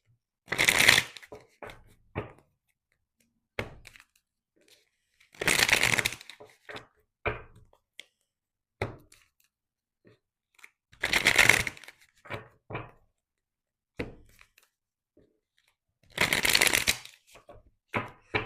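Tarot cards shuffled by hand: four quick riffling bursts spaced a few seconds apart, close and crisp, with soft taps and clicks of the deck between them.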